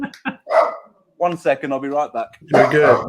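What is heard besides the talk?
dog barking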